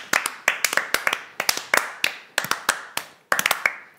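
Hands clapping in quick bursts of several claps each, sharp and close, repeated roughly every half second to second across the whole stretch, with no talk over it.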